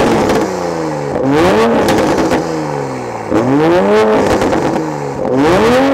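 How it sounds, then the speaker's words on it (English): A car engine with maxed-out exhaust burbles revs up repeatedly, rising in pitch with each burst then dropping back, loud and close, about four revs in a row. "we're gonna start out with some revs here"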